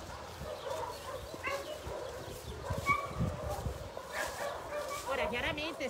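Dogs barking at a municipal dog shelter, repeated yips and barks scattered at a middle distance, with a person talking over them throughout.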